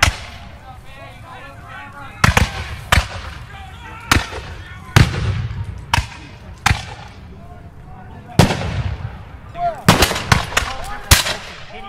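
Musket volleys crack out at a Battle of Great Bridge reenactment, sharp scattered shots ringing at irregular intervals over crowd noise and someone narrating.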